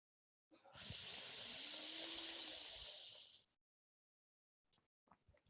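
A long, steady hiss of breath drawn in through a rolled tongue during Sheetali pranayama, close and loud for about three seconds, followed by a quiet pause and a few faint breathy rustles.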